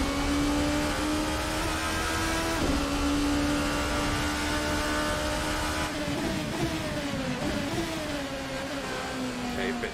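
A race car engine in Assetto Corsa at Daytona holds a steady mid-pitched drone, then drops through downshifts with a few quick blips and falling revs, fairly close and continuous, with game audio dominating.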